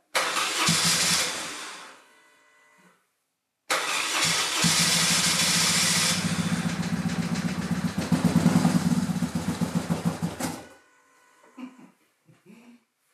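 BMW R1150 GS motorcycle engine starting: a short cranking burst, a pause, then the boxer twin fires and runs steadily, revving briefly before cutting out, followed by a few faint clicks.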